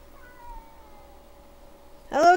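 A single cat meows near and clearly at the end, a short rising cry after a faint tonal hum from a Spyro 2 game soundtrack in the background.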